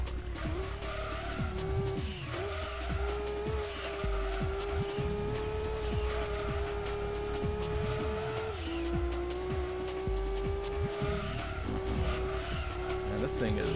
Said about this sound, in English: I love the sounds it makes when you shift in this game with certain cars.